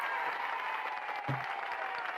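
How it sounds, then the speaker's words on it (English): Applause seems to play from an old recording of a Mary Kay Cosmetics event, a thin, steady wash of clapping with a brief low thump partway through. "let's give her a big round of applause"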